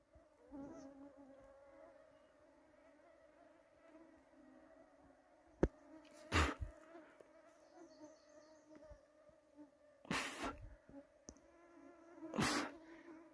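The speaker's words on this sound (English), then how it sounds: "Look at the mosquitoes." Mosquitoes buzz outdoors in a faint, thin, continuous whine close by, broken by a few sharp clicks and brief louder noises.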